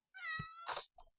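Kittens meowing close by in a short burst: one long, drawn-out meow followed by two brief, quieter mews, with no talk over them.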